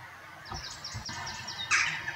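Loud birds calling from the tall towers and surrounding trees of Spofforth Castle, a quiet ruined site, with a series of short bright chirps and a sharper burst near the end over faint background noise.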